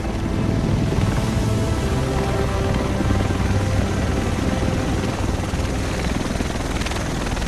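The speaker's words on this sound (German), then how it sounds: "Der Rest von uns sitzt in diesem Heli." A helicopter arrives in Tom Clancy's The Division, its loud rotor thumping and engine whine holding steady and close throughout, with no speech over it.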